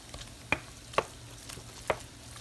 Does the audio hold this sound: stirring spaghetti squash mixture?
yes